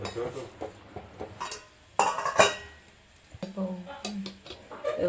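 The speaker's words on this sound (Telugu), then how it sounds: "మసిలినప్పుడు రవ్వ వేసి ఇట్లా కలుపుకుందాము" Semolina stirred into boiling water in a pot for upma, with a spoon scraping and clinking against the metal in uneven bursts, close up, while a person talks over it.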